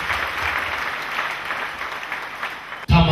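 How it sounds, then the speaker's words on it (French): A church congregation applauding steadily, with dense, fairly loud clapping that holds for about three seconds before it cuts off sharply into a brief louder sound. "Clap for Jesus Christ."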